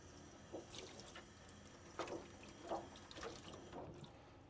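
Water runs from a tap as a face shield is rinsed, a faint steady trickle with soft splashing bursts as the shield moves under the flow.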